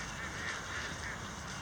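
Geese honk at Brabrand Lake, a frozen lake with icy water, a steady mass of calls carrying over constant outdoor noise for the whole stretch, moderately loud with no talking.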